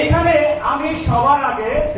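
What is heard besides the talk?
No distinct noise like a dog, phone or traffic.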